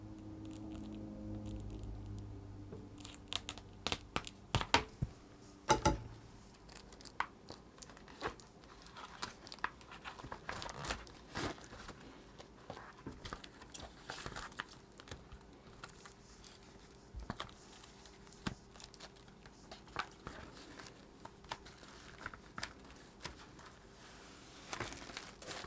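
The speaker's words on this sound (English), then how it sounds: "we're going to carefully cut" A 1994 Sports Illustrated Swimsuit Calendar for Mac software box is carefully cut open, giving sparse quiet clicks, small crinkles and tearing scratches against a near-silent room.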